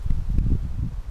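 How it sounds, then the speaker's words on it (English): Wind gusting outdoors at dusk during an overnight hike, a low rumbling buffet with faint rustling, steady and fairly loud across the short stretch. "Definitely getting windy."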